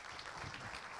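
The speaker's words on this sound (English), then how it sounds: "let's give these gentlemen a round of applause" Audience applause for speakers at a conference session, a brief, steady burst of many hands clapping at moderate volume.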